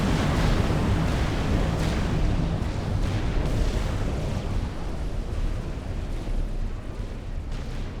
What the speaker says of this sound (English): The destroyer comes out for firing.